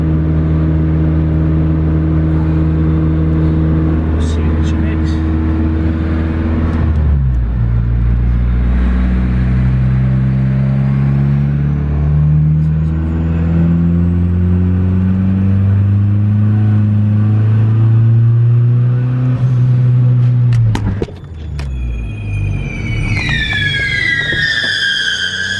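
A Honda Civic fitted with a Pulsar G25-550 turbo makes a loud, close dyno pull, its engine revving steadily upward with rising whine, a brief lift, then another climb ending in turbo flutter and whistles.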